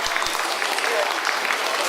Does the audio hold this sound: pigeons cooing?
no